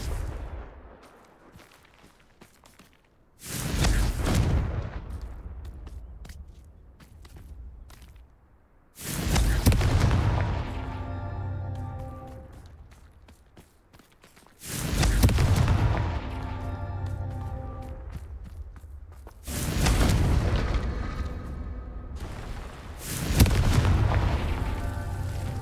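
Confringo explosive spell blasts in the video game Hogwarts Legacy: five loud booming blasts at regular intervals, each with a sharp onset and a rumbling, ringing tail fading before the next.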